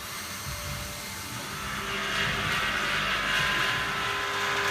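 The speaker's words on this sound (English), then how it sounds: "But essentially you've got a vacuum pump here" A vacuum pump at a boat-building resin infusion bay runs with a steady mechanical drone and hum, swelling slightly louder partway through and continuing without pause.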